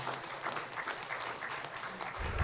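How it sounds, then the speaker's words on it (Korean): A church congregation applauds in celebration during a Sunday worship service, dense even clapping from many hands filling the room at a moderate, steady level. "다시 한번 큰 박수로 축하하겠습니다"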